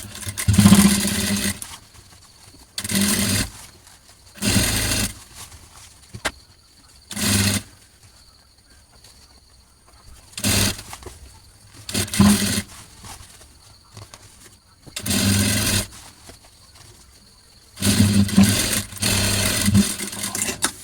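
A sewing machine stitches a simple top in repeated bursts, each a loud, fast mechanical rattle lasting a second or two, separated by quiet pauses, with a longer run at the end.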